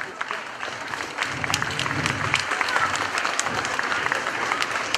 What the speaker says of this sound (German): ich bedanke mich für den Applaus